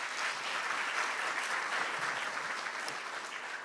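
An awards audience applauds the team finalists, a fairly soft and distant sheet of clapping that holds steady before easing slightly at the end.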